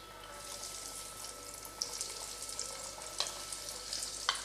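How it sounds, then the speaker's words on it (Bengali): Fish chops deep frying in oil in a wok over a medium-to-high flame make a soft, continuous sizzle with occasional sharper pops and crackles. "মিডিয়াম টু হাই ফ্লেমে ভাজা হবে।"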